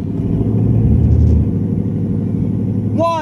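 A stock Ford Mustang with an MBRP exhaust rumbles loudly at a drag race, its deep engine note steady and close before a brief voice cuts in at the end.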